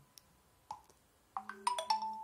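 WhatsApp message notification tones on a phone and computer: a few faint clicks, then two or three bright chime alerts arriving close together, one overlapping the other, in a quiet room.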